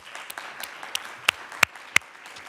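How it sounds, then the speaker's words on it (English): Scattered claps for award winners in a disability reporting awards ceremony, a few sharp, close hand claps standing out over a soft, sparse patter for about two and a half seconds. "Let's give one more round of applause to all the winners in the small media category."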